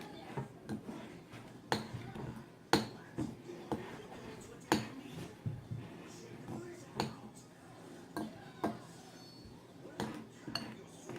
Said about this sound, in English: And then I'm going to add 1 cup of Monterey Jack cheese. And I'm just going to mix that all together.